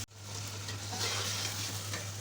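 Meat frying and being stirred in a pot for degi yakhni pulao, a soft, even sizzle with light stirring textures, close but fairly quiet, with no voices.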